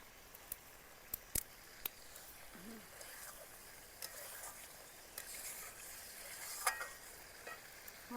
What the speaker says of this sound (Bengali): এইবার মশলাটা সুন্দরভাবে কষিয়ে নেব 1-2 মিনিট মতো রেখে